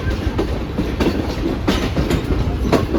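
Continuous rumble of the Pak Business Express on its Karachi to Lahore route as it nears Landhi station, with wheels clacking over rail joints in an uneven rhythm, heard loud and close from inside the carriage.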